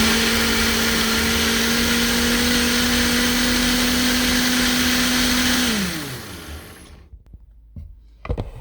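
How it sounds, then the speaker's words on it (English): A blender roars loudly and steadily blending jalapeno dip, then winds down as the motor slows and stops, followed by a few light clicks. "Here we go with the magic of the blender."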